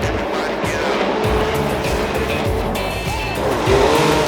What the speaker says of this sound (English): Chris Forsberg throws down that awesome energy drink, Nissan 370Z